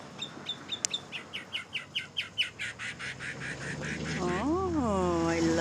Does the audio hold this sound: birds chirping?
yes